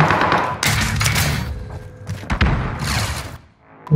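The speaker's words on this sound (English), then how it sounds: "Calling for fire on my target. Precision airstrike missed." Precision airstrike explosions in Warzone, several heavy thuds and booming blasts in quick succession, loud and close, fading into a quiet tail.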